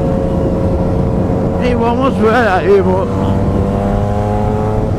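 A Yamaha MT-09 motorcycle with a modified, loud aftermarket exhaust tip idles with a deep steady drone, then revs up and falls back once, close and loud throughout, while someone talks over it.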